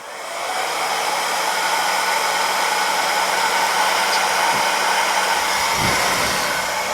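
A steady, loud rush of hot air from a heat gun, a constant whooshing roar that holds level throughout with no talking.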